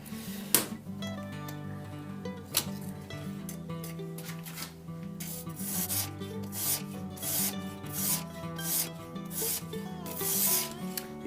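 A kitchen knife that has long gone unsharpened is drawn repeatedly across a RUIXIN Pro knife sharpener, making close, steady rasping strokes in a continuous rhythm over soft tonal background sound, with no talking.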